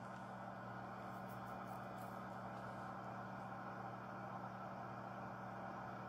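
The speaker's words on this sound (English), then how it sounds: "You hear that? It's supposed to be like the engine of a car." A low, droning car engine hum from a PS1 video game, with steady tonal buzzing, faint and unchanging, looping with slight glitchy flutter.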